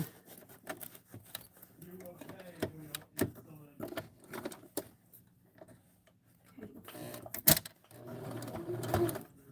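A sewing machine stitches through flattened fabric in short bursts of rapid ticking and whirring, separated by pauses and handling clicks, fairly close and moderately quiet.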